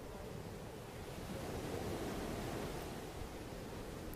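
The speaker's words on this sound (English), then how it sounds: "because we had the waves crashing. It was really loud out here." Ocean waves crashing on the shore beside an outdoor yoga session, a steady, loud broadband roar of surf with no distinct breaks and no voices.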